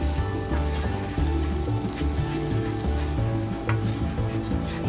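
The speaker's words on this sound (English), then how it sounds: "Now you're going to brown your rice." Rice browning in a greased pan, with a steady close sizzle and frying crackle and occasional stirring scrapes, heard alone without any voices.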